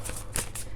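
A deck of tarot cards is riffle shuffled in a quick run of crisp, papery flutters and slaps, close up, with one sharper burst in the middle.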